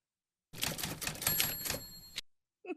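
A typewriter clattering through a fast burst of keystrokes, ending on a bright bell-like ring, followed by silence and one last short mechanical clack.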